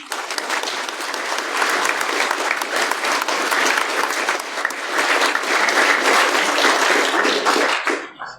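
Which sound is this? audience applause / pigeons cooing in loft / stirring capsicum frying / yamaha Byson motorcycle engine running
audience applause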